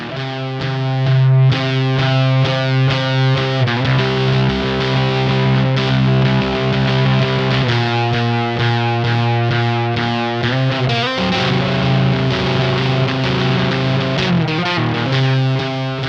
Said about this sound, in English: The other one is the moderate distortion for some good stoner riffs.